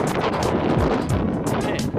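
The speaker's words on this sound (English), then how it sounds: "It is windy." Strong wind buffets the microphone with rumbling gusts, loud and close, and outdoor noise underneath.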